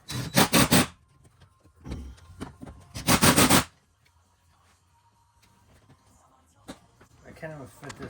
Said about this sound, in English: Excuse us while we drill it in.